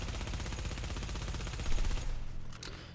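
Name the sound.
Vector submachine gun firing in the video game The Division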